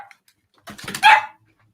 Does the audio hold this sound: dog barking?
yes